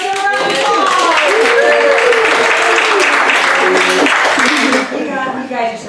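An audience claps for a singer before her original guitar song, with loud, steady applause and cheering voices that taper off near the end.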